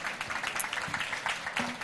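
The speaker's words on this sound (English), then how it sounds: "A huge round of applause for our panelists and Tim." A conference audience on the main stage of an event-tech show applauds its panelists, a steady wash of clapping that holds at a moderate level for the whole stretch, with no speech over it.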